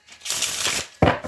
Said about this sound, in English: we're going to shuffle it like tarot